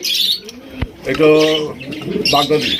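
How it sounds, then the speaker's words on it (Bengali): Large black Bombay pigeons give a few deep, resonant coos up close among a loft collection, alongside brief flutters and soft chirps, with a voice speaking in the background. "এত বড় সাইজের কবুতর আপনারা দেখেন"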